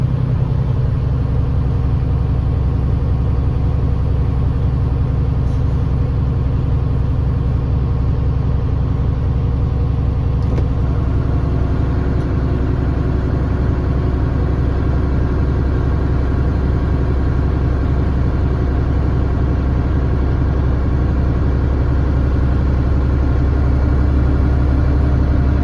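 A Class A truck's diesel engine idles steadily to build air pressure, a constant low rumble with a faint high whine above it, close and loud throughout, no talking.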